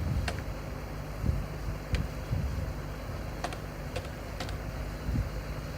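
Typing a captcha on a computer keyboard while filling out an online scholarship application form: a few sparse, soft key clicks spaced irregularly over quiet room hum, no talking.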